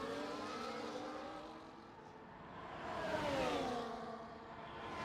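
Formula 1 cars in the racing game F1 24 running close together on the Singapore circuit, a steady high engine whine with shifting pitch as the cars jostle, swelling louder near the end, fairly distant and without talk.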